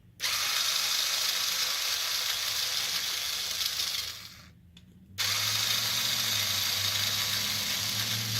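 An electric screwdriver without an adjustable clutch drives screws while an Arrma Kraton V3 RC car is repaired, with a loud, steady, close whir that stops briefly and then resumes with a deeper, loaded tone.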